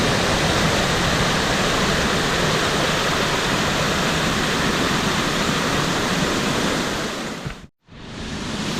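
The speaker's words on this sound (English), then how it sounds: "So here's the base of the little falls slash chutes." Loud, steady roar of rushing water at the base of a small waterfall and chute on a river, with shallow rapids nearby, filling the whole stretch close-up before a brief near-silent dropout and its return.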